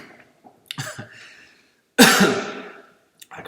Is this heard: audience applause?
no